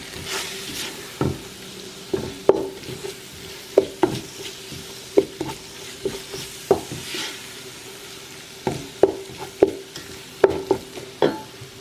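A spoon stirs garam masala through a pot of Kenyan beef stew, with repeated short scraping strokes in an uneven rhythm over a soft background hum.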